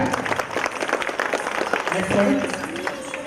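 A crowd applauds four children after their dance performance at a school reunion get-together. Steady clapping runs throughout under an enthusiastic voice talking over it.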